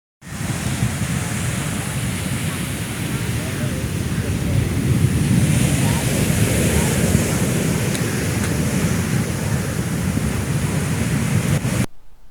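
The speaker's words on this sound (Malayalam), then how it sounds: "50 മീറ്ററോളം തീരത്തേക്ക് തിരമാലകൾ അടിച്ചുകയറി" Storm-surge waves surge inland up to fifty metres on the Karithura coast at Chavara, a mineral-sand mining area, over broken sandbags. They make a loud, continuous roar of rushing water and wind, steady throughout, then cut off abruptly.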